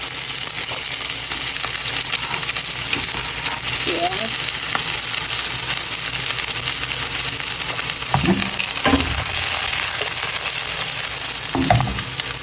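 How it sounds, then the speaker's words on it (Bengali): Onions frying in a pan for shrimp bhuna, a steady loud sizzle throughout with a few stirring scrapes and clinks near the end. "হালকা একটু ভেজে নেব পেঁয়াজ"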